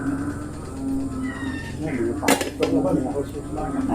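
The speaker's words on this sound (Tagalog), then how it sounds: "Kumakain mga pusa." Cats meow while eating as dishes and cutlery clink nearby, with a person talking over the clatter in a busy kitchen.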